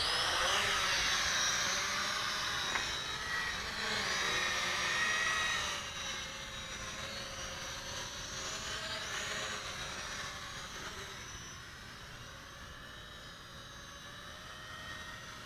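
A small JJRC H9D quadcopter drone flies outdoors in wind, its rotors making a continuous buzzing whir that is loudest at first and gradually fades as it moves farther away, with no talking.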